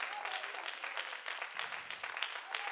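Church congregation claps together during a service, a brief, lively burst of many hands clapping at a fairly close, steady level.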